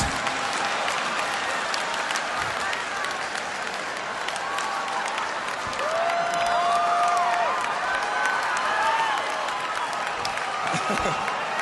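A comedy club audience breaks into sustained applause and cheering, a dense, steady roar of clapping across the whole stretch with whoops and shouts rising through the middle, no one speaking over it.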